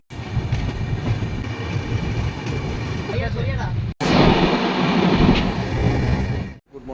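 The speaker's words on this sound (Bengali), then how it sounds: "আমাদের ট্রেন প্ল্যাটফর্ম থেকে ছেড়ে দিয়েছে" The Shipra Express passenger train moving after leaving the platform, a steady rumble and rattle, loud and continuous, with a brief cut partway and a brighter, harsher roar afterward.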